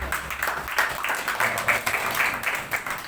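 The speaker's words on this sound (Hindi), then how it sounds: "जोरदार ताली" Loud applause from a church congregation during a pastor's sermon, a dense wash of many hands clapping that swells in uneven waves and carries on for a few seconds without speech.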